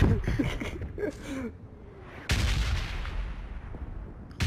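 Rocket explosions and gunfire in the battle royale video game PUBG: a muffled burst early on, then a loud blast that rolls on with a long decaying rumble, as a voice makes short sounds over the start.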